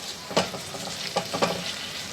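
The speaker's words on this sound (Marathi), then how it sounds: "याच्यामध्ये आपल्याला कांदा भाजायचा आहे. जरा परतून घेऊयात." Chopped onion sautéing in hot oil in a pan for a chicken curry, a soft steady sizzle broken by a few scraping stirs of the spoon, close and alone with no talk.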